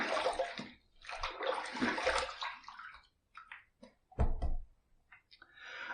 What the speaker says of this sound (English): First pass done, let's rinse.